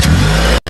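A cartoon car engine revs loudly and close in a Shinchan episode, a sustained roaring drone that cuts off abruptly, then briefly resumes.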